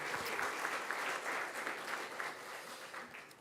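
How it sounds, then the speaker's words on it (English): An audience at a school police swear-in and promotion ceremony claps in sustained, even applause, a dense patter of many hands that carries on steadily and eases slightly toward the end. "one more round of applause for our newest police officers here."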